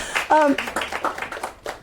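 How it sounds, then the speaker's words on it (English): A short burst of hand clapping from a small group, mixed with overlapping voices and a brief whistle-like cheer. "we need a clap for that answer, that question, right?"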